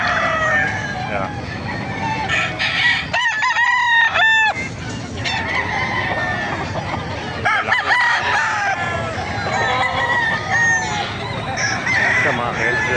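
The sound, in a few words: gamefowl roosters crowing at Bocaue Bulacan market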